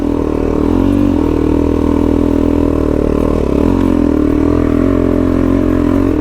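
Adventure motorcycle engine held at high revs in first gear on a snowy mountain trail in Australia, a loud, steady, droning roar that stays close and constant with slight dips in pitch and no talk.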